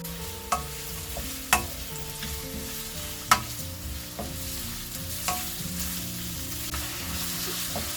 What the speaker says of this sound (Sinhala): ලුණු ටිකක් විනාඩි 2ක් විතර ටෙම්පරාදු කරගත්තා